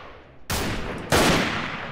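Machine gun fire during a siege battle in a guerrilla warfare video game: two loud, dense bursts of rapid gunfire, the second even louder, crackling continuously with no talking.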